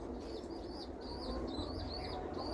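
Pigeon feeding its chick, with soft repeated cooing and wavering calls over a steady background hum, fairly faint.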